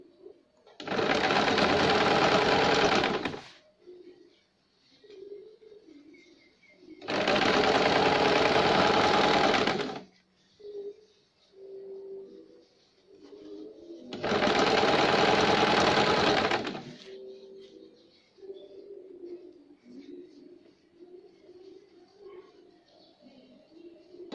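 A sewing machine stitches the sleeve of a baby girl's shirt in three separate bursts of a few seconds each, with quiet handling pauses between runs.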